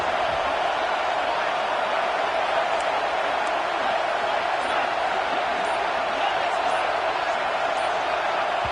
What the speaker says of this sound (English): the crowd forces a false start